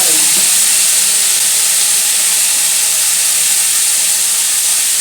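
Vegetable stalks and chickpeas frying in a pan for a Bengali pumpkin curry, a loud continuous steamy sizzle and hiss close up, steady throughout with no talking.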